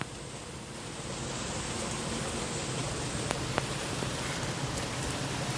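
Heavy storm rain pours down as a steady, dense hiss with scattered drip taps, close and continuous throughout, with no voices.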